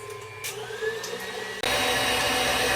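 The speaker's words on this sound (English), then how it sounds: "I'll start by whisking together the egg whites with a teaspoon of cream of tartar." An electric mixer whisks egg whites with cream of tartar towards stiff peaks, giving a steady motor whine that drops out for an instant, then returns louder and brighter, close by.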